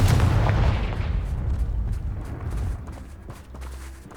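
The Confringo blasting spell goes off in Hogwarts Legacy, a loud close fiery explosion with a heavy low boom that rumbles and slowly decays, followed by a few softer crackling pops.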